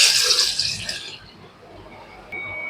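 Rice and urad dal are washed in water, with a sloshing, splashing burst at first that fades into quiet trickling and light dripping.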